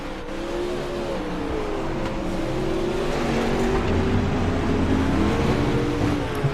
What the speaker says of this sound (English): As these cars are encircling the track currently as we speak.